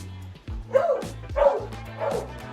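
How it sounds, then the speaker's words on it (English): A beagle lets out a few short barks and yips at a grooming station, three to four close, loud bursts in quick succession with no talk over them. "That beagle bark."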